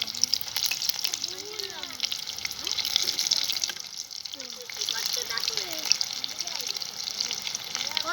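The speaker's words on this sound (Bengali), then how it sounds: "এগুলোকে ভেজে নিচ্ছি দেখুন" Fish pieces fry in hot oil in a home kitchen, giving a continuous bubbling sizzle with some watery splashing, heard alone without talk.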